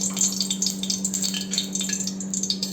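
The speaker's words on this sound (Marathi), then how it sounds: "जिरे, धने आणि खोबरं ह्याला थोडं भाजून घेऊया, फ्राय करून घेऊया" Cumin, coriander seeds and coconut roasting in oil in a pan, with a close crackling sizzle in quick bursts over a steady low hum.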